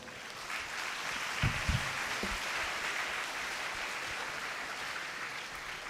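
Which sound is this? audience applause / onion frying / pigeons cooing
audience applause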